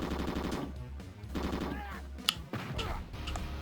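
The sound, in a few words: machine gun fire in the video game Commando: Steel Disaster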